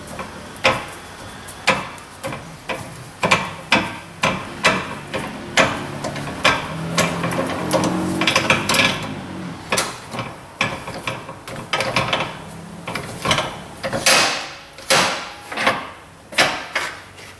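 A strut spring compressor being backed off on a front strut from a Subaru Forester, a series of sharp metallic clicks and knocks in a loose rhythm, close and loud, with a busier ratcheting patch midway.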